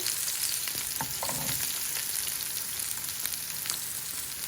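Onions frying in a little oil in a pan, a quiet continuous sizzle with a few light stirring scrapes, close and without talk.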